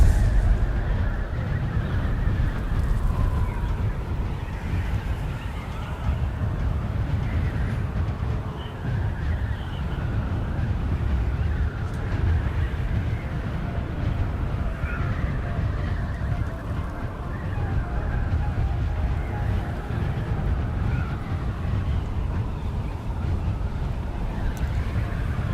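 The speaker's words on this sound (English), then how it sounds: "Pretty windy." Steady wind blows through the Dune Awakening desert, a continuous low roaring rush with gentle swells and no breaks, loud and close throughout.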